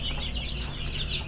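Young broiler chicks in a poultry shed on a farm give a dense, steady chorus of soft high cheeping and clucking, continuous and fairly close with no voices.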